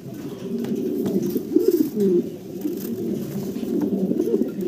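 Pairs of fancy show pigeons, offered for sale in Bangladesh and in breeding condition, coo steadily in low, rolling, overlapping calls close by, with no talk.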